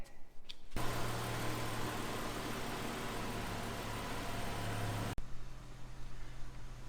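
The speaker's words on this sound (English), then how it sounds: "the car has been idling for a little bit" A 2013 Dodge Charger engine idles after an oil change, starting abruptly after a short pause and holding a loud, steady rumble for about four seconds before cutting off sharply, with quieter ambient noise before and after.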